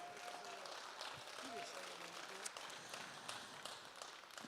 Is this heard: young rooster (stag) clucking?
no